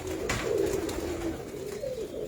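Pigeons kept by a fancier coo close by in soft, rolling low calls that repeat over a faint background hiss, with no talking.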